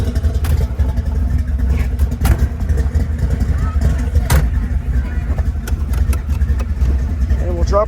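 A Ford Bronco on 37-inch tires with a 427 stroker engine runs at a steady, loud idle, with a deep continuous rumble throughout and occasional clicks and knocks nearby.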